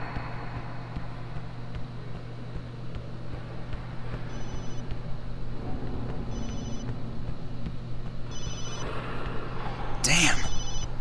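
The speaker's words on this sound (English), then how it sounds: "I should have turned off my cell phone." A cell phone rings inside an empty school in the survival horror game ObsCure, several short repeating ring bursts over a droning background hum and steady noise, with no speech during the rings.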